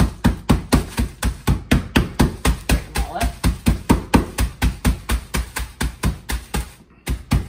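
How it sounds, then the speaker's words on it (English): A small hammer pounds Ritz crackers sealed in a Ziploc bag, about thirty loud, close, evenly spaced thuds with a brief crunch in each, a short pause near the end before the last few blows. "you take about a little more than like half a sleeve of Ritz crackers and you put them in a little Ziploc baggie. You take a little hammer"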